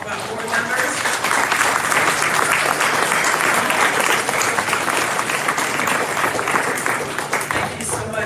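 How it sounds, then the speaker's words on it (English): An audience at a memorial celebration gives board members a sustained round of applause, steady and full for about eight seconds with voices mixed in. "let's give them a round of applause, all of our board members."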